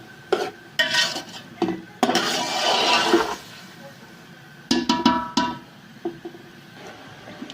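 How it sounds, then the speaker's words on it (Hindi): Mixed vegetables being stir-fried in a pot for aloo matar gajar pulao, with a spoon scraping and clinking against the metal in repeated strokes and a brief sizzling rush, close and fairly loud. "अब इन सारी सब्जियों को अच्छे तरीके से भूनेंगे।"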